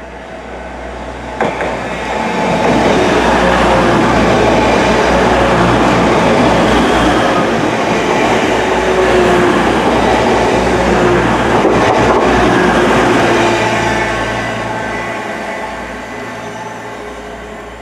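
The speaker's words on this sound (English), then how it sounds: "So our next train is the 1457 Northern service, which will take us to Wakefield Kirkgate." A train rumbles through a station at close range, a loud broadband roar that swells, holds steady, then fades as it passes.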